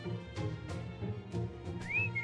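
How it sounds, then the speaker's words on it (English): Whistling in the Fate/Grand Order video game, a few soft breathy notes ending in a brief rising, wavering tune, heard over a quiet, steady game backdrop. "Whistling."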